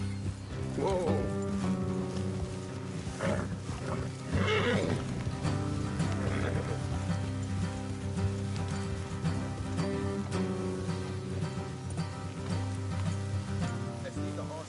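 Horses neighing and whinnying with hooves clip-clopping in Red Dead Redemption, the game's music and ambience running continuously beneath, with a brief voice in places.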